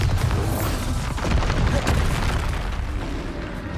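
Bombarda spell explosions in the video game Hogwarts Legacy, a loud deep rumbling boom that stays heavy and sustained throughout.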